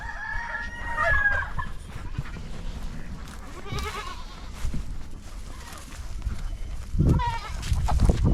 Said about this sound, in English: So those are some nice hens